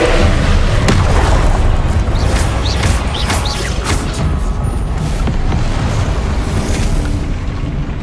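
Spell blasts in the video game Hogwarts Legacy burst in a dense, loud rumble of booms and crashing impacts, with sharp cracks layered over a constant heavy roar and no talking.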